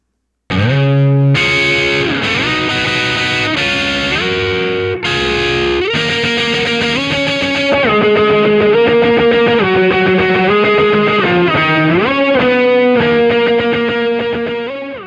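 A heavily processed singing voice, compressed and bathed in a wide, shimmering plate reverb, holds long melodic notes over a steady, full backing mix.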